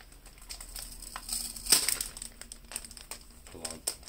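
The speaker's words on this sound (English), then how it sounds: "Okay, so we're going to take this plastic wrap off." Plastic wrap being peeled off a Logitech G915 TKL keyboard box: soft crackling and crinkling in irregular bursts, fairly quiet and close, with one sharper rustle midway.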